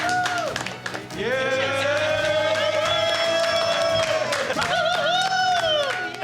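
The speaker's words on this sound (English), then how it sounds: "please, a big round of applause for the lovers" An audience at a refugee community event cheers and whoops for first-place winners. Loud, drawn-out shouted cheers ride over a crowd roar and scattered clapping, with one voice calling out close by.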